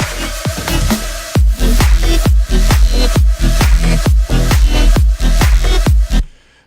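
An electronic music track built with heavy sidechain compression: loud, steady kick-like hits in a regular beat, with the rest of the mix ducking and pumping after each one, ending with a short fade.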